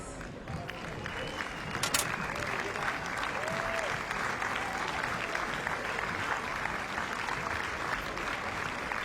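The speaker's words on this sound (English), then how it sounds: "Ladies and gentlemen, give him a huge round of applause." A tennis crowd at a match between Andreas Seppi and Sergiy Stakhovsky applauds as a player walks onto court. The clapping is sustained and dense, with scattered cheers, while an announcer speaks over it.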